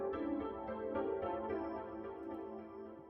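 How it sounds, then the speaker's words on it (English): Xenology Particulars piano sample playing a short sustained chordal phrase, soft and steady with a hazy, smeared tone throughout, no talk over it. "this piano is from Xenology, and it's called Particulars, and it sounds like this"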